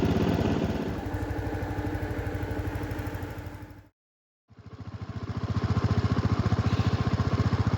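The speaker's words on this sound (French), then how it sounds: "Là le moteur est froid et on voit bien que les gaz ils passent bien à l'intérieur" A cold Honda 125 scooter engine with a blown head gasket runs rough and loud, stops abruptly for about half a second, then restarts into a steady, throbbing idle with a pulsing beat.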